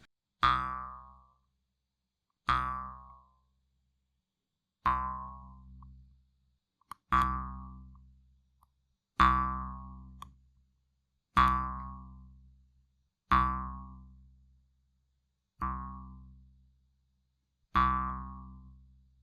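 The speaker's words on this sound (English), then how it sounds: "hopefully this harp will sound way louder than this" Single plucked notes from a toy harp ring out one at a time, about every two seconds, each decaying quickly into silence; soft and close.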